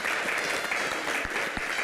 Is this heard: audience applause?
yes